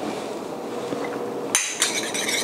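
An egg is cracked and beaten in a bowl for homemade cheeseburger patties: a faint low hum first, then a sudden run of bright, close clinking strokes against the bowl.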